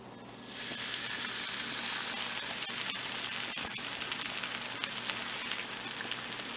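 Chicken rolls lowered into a pan of hot oil set off a loud, dense sizzle that rises within the first moment and holds steady, with scattered sharp pops near the end.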